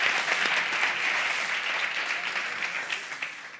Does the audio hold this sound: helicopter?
no